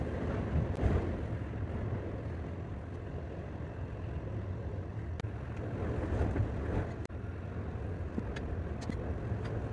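Strong, gusting wind roars around a small 2 kW wind turbine during 50 mph gusts, a steady broadband rush that swells and eases in waves with brief buffeting thumps against the microphone, no voices.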